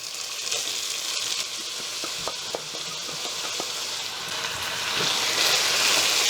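Soaked, washed basmati rice frying lightly with green peas in a pan for a pulao, a steady close sizzle with soft stirring scrapes and small crackles, growing a little louder toward the end; no talking.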